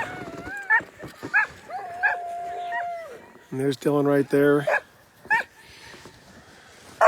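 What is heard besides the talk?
sled dogs howling and barking at a race checkpoint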